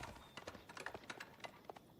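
Hooves of a Horseman cavalry unit in a real-time strategy video game, a quick irregular clip-clop of several galloping steps, faint and fairly distant amid battle ambience.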